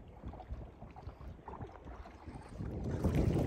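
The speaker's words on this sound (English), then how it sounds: "Now you hear the wind start to kick up" Wind picks up over a lake while kayaking, a gusty low buffeting rush over the microphone along with water and paddle sounds, building louder toward the end.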